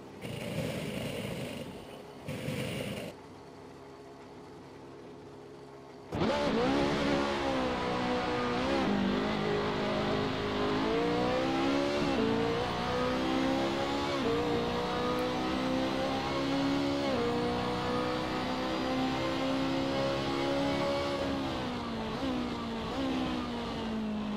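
A GT2 America race car in Assetto Corsa at Mugello starts with a brief quiet stretch, then its engine roars loudly and close, revving up and down in repeated climbing sweeps through gear changes, with no talk over it.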